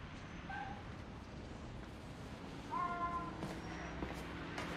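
A cat meows in the video game Spider-Man: Miles Morales, giving two short, faint meows over a steady city background hum.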